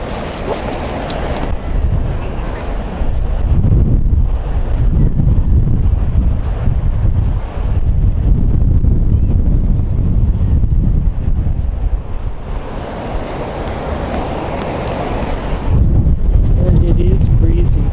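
Strong gusty February wind at the beach buffets the microphone in loud, rumbling surges, with surf faintly audible beneath and muffled voices in places.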